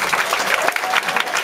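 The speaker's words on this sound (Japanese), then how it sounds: "拍手。" An audience at an indoor band event in a Tokyo live venue bursts into loud, dense applause, a brief wash of many hands clapping together close by.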